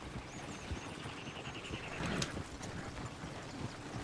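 Horse hooves clip-clop steadily in Red Dead Redemption 2, a moderately loud, irregular trotting rhythm over game ambience with a brief louder swell midway.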